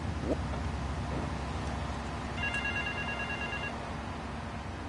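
Telephone ringing inside the video game GTA III: The Definitive Edition, a brief electronic ring tone with steady tonal pulses over a constant background bed of game music and ambience.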